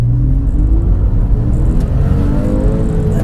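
A 2006 Porsche 911 Carrera S (997.1) accelerates with a steady, loud, low exhaust rumble whose pitch climbs gradually and which stays continuous throughout.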